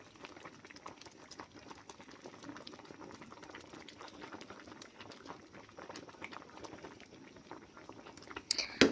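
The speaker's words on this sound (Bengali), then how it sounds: "আমার রাইসটি প্রায় এইটি পার্সেন্ট সিদ্ধ হয়ে গেছে" Basmati rice bubbling at a steady boil in a pot of water on the stove for chicken biryani, a dense, even patter of small bursting bubbles throughout, with a sharper clatter right at the end.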